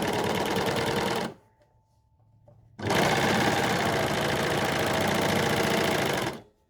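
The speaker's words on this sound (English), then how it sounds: "this was a shoulder seam and I'm going to sew a sleeve onto it" A sewing machine stitches a sleeve onto a shoulder seam in two close, steady runs of fast mechanical whirring separated by a short pause, the second run longer than the first.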